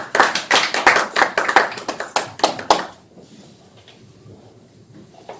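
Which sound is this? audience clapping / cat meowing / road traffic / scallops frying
audience clapping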